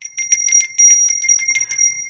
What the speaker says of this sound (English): Plain old bell will help clear the energy.